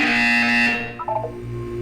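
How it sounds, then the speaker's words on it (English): A harsh electronic buzzer in Portal 2 sounds loudly for under a second, then cuts off and leaves a few short tonal blips over a faint hum. "When you hear the buzzer, look up at the ceiling."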